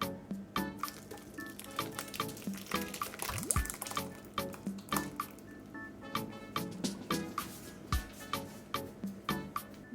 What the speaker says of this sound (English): I'm going to carefully, very carefully, pour the hot liquid over the mesh strainer.